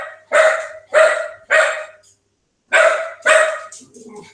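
A dog barks nearby in a home setting, five loud, sharp barks in two quick groups of three and two with a brief pause between, followed by faint whimpering.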